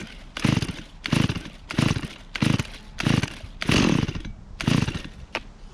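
A cold gas chainsaw that has been sitting is pull-started by hand, about seven rhythmic recoil-cord pulls each giving a rasping burst, close and loud without firing, no talk.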